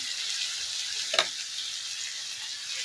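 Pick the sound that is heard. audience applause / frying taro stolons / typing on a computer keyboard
frying taro stolons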